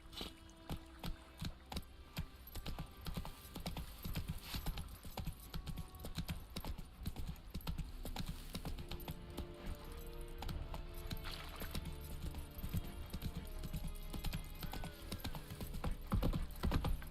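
Roach the horse galloping in The Witcher 3 video game: a steady, rapid clip-clop of hooves with faint jingling tack, running continuously under a busy in-game background, with no speech.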